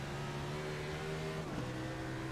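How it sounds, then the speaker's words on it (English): A V8 race car engine drones steadily at high revs on the Brands Hatch circuit, heard on board, loud and continuous, with a brief pitch dip as it shifts near the end. "Fantastic V8 engine thunders its way down Pilgrim's Drop"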